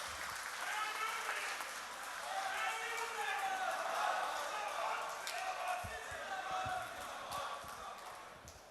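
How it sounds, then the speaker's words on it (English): Conference hall audience at a bank officers' association jubilee event applauding, a sustained wash of clapping from a large crowd, moderately distant and steady throughout. "Comrades, please give a round of applause for welcoming Comrade Somay Datta."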